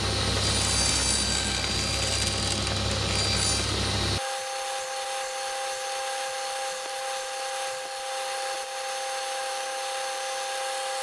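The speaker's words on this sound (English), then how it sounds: "removed the rest of the material by making multiple passes over the blade" Table saw cutting a tenon on a wooden apron board for a coffee table, a loud buzzing cut that stops abruptly a few seconds in, leaving the blade's lighter whine spinning on.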